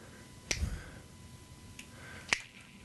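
Two crisp finger snaps at an open mic poetry night, about two seconds apart, sharp and close over a quiet room.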